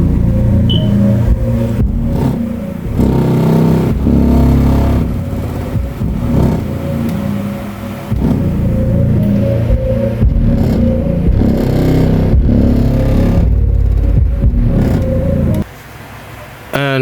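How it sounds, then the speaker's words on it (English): Heavy subwoofer bass thumps set a metal stand against a wall and an amplifier rattling and buzzing loudly, in pulses that follow the beat and drop out briefly near the end. "it's made out of metal and it's rattling on the wall, and the amplifier is rattling"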